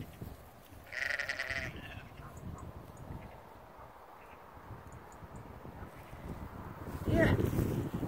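Ewes bleat on a farm, one clear bleat early and another near the end, over wind noise and someone talking.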